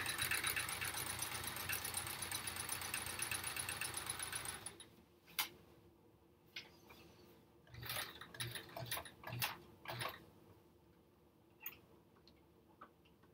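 A sewing machine runs fast and steady for about five seconds while a quilt block of string-pieced fabric is free-motion stitched, then stops, leaving faint clicks and handling noises.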